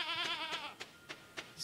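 Sheep bleat in the farming game Stardew Valley, a wavering baa held for about half a second, then a few short clicks or steps, alone without talk.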